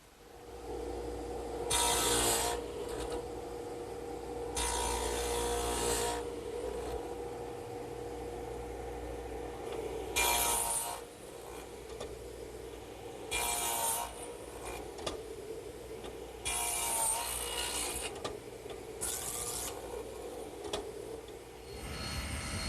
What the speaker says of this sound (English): What I'm starting to do now is cut a dado in the front legs